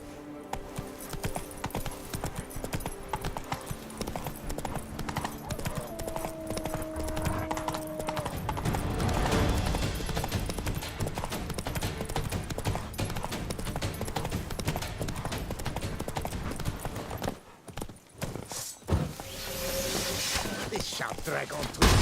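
Roach, the horse in The Witcher 3 (Next Gen), gallops with rapid, continuous clip-clop hoofbeats, loud and close, mixed with game music and effects and a short dip near the end, while someone talks over it.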